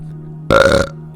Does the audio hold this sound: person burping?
yes